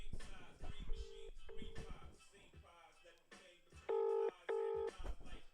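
A telephone number is dialed with a run of loud touch-tone beeps, some clustered near the end, while voices talk over and between them.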